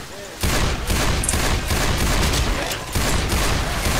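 Sustained gunfire in the zombie shooter Left 4 Dead 2 on a highway level, loud and dense, with rapid shots running almost continuously and a brief lull near the end, with faint voices beneath.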